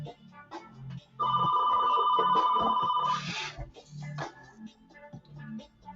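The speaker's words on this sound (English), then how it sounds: "Phone's ringing." A telephone rings with a steady electronic trill lasting about two seconds, close and loud, with soft murmuring voices before and after.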